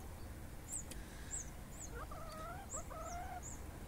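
Chickens making soft, faint clucking and warbling calls in the early morning, with scattered higher chirps above a steady low background hum and no talking.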